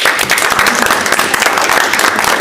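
Council chamber audience applauding girls' golf teams at a city council meeting: steady, dense clapping from many hands, fairly close and loud, sustained throughout.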